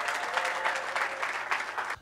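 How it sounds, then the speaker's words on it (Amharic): A church congregation claps in a brief, dense burst of applause, steady and fairly close, with some voices blended in the crowd. "እልልታ ጭብጨባ ለጌታ"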